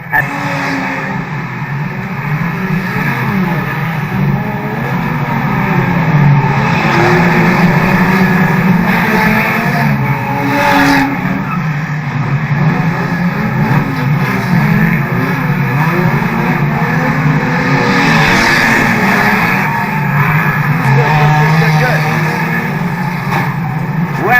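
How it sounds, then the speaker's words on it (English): Race cars roar and rev continuously on a track during a heavy crash, with engines droning loud and close while a commentator talks over the action. "A big wrecking session kicked off the entire race there."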